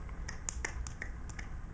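A small child claps hands about a dozen times in quick, uneven succession, each clap a faint, crisp pat heard alone in a quiet room.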